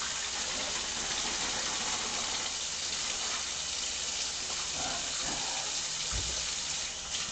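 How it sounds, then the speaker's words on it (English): Running tap water rinses out an emptied plastic pork loin wrapper at a kitchen sink, a steady close gush of splashing water throughout, with soft crinkling and sloshing of the wrapper near the end. "Always rinse out the wrapper so it doesn't stink up the garbage so much."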